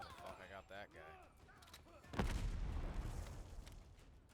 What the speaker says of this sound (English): Explosion upstairs.